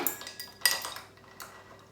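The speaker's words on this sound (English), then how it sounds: "I'm just gonna add a couple of ice cubes to my water." Ice cubes clink against a glass of water in a kitchen, a few light, sharp taps and chinks scattered over two seconds, close and quiet.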